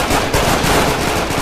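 Sustained rapid gunfire from a film fight scene, a loud dense burst of machine-gun shots with no gaps.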